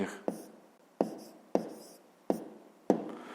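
A pen writes on paper in five short scratchy strokes spaced roughly half a second apart, each starting sharply and fading, close and clear with no talking.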